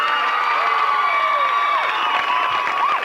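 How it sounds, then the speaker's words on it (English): A hypnosis show crowd cheers loudly, with sustained shouts, whoops and high voices mixed with clapping, a dense wall of noise filling the room throughout. "what about a huge round of applause for all of them as they go back to their seats?"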